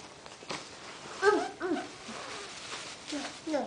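A voice imitates a dog's bark, giving a few short, high yips spaced across the moment over a quiet indoor background.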